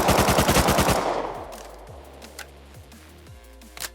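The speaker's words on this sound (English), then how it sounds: "Someone else is shooting." Rapid automatic gunfire in the video game Rust, a loud close burst of evenly spaced shots lasting about a second, then fading echoes and a few scattered faint sounds.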